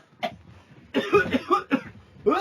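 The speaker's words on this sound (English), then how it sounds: "I'm coughing." A man coughs several times in quick, close bursts, a single cough followed by a rapid cluster of harsh, throaty coughs.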